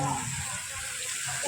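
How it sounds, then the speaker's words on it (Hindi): Water gushes forcefully from a newly installed hand pump at a temple, a steady broadband rush filling the whole short span at close range, with no talk over it. "देखिए एते स्पीड में निकले छै पानी यो"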